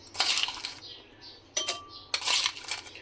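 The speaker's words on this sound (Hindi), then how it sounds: "इसमें मैं डाल दूंगी कुटी हुई बर्फ।" Crushed ice tipped into a serving glass for watermelon juice, bursts of clinking and rattling pieces in three separate pours with brief pauses between, close and fairly loud.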